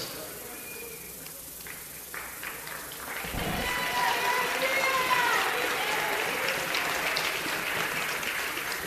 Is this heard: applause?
yes